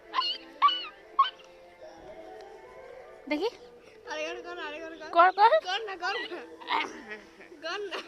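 A child imitates a dog's bark with short voiced yips and whimpering cries at close range, repeated in bursts between people talking.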